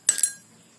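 Ice cubes just taken from a refrigerator give a brief, bright clinking rattle, a quick cluster of two or three close knocks that ring out and fade within a second.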